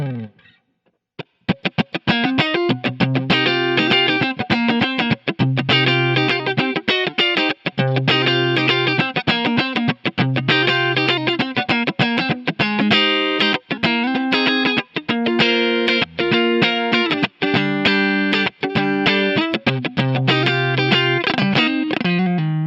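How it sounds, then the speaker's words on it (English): Clean electric guitar played through a Kemper Profiler on an AC30-style clean amp, a funky rhythmic part with choppy strummed chords and muted scratches, steady and close for over twenty seconds without talking. "AC30 like clean amp that I use for funky stuff"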